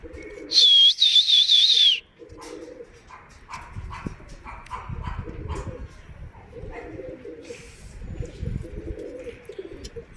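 Homing pigeons return to the loft while birds call and coo nearby, with a loud whistle-like tone early on, a dog barking and general outdoor rustle.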